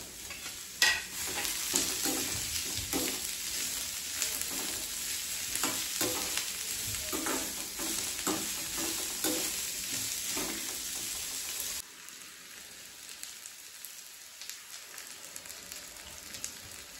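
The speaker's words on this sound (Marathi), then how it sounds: "त्यामध्ये आपण 1 चमचा तेल टाकूया आणि त्यामध्ये कांदा छानपैकी परतून घेऊया." Chopped onion sizzles in a spoonful of hot oil in a kadhai for spicy mutton rassa, with steady close frying hiss and repeated scraping stirs; the sizzle drops noticeably quieter near the end.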